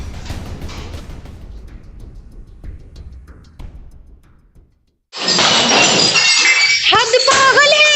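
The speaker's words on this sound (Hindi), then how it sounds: "वो खिड़की के शीशे चकनाचूर करने लगा" Window glass being smashed at a computer coaching centre: a bright, loud crash of breaking glass with tinkling shards, following a stretch of noisy crowd talk that fades away.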